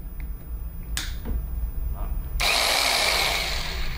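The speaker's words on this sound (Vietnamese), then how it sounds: "Sau đó thì chúng ta sẽ chuyển qua chế độ đục." A Huspanda concrete demolition hammer switched to chisel mode, with a couple of sharp clicks and knocks followed by the motor kicking in with a loud, continuous whirring hammer drone close by.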